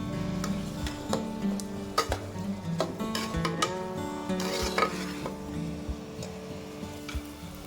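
Onions sautéing in a pan for a spicy chicken gravy, with a quiet sizzle under irregular spoon clinks and scrapes against the metal pan.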